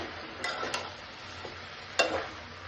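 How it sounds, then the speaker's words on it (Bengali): Winter vegetables with tomatoes get stirred in a pan over a low frying hiss, with a few sharp scrapes and clacks of the utensil against the pan, close by and unaccompanied by speech. "এরপরে আমি দিয়ে দিলাম টমেটোগুলো সবগুলি সবজি দিয়ে একটু ভালোভাবে নাড়িয়ে চাড়িয়ে"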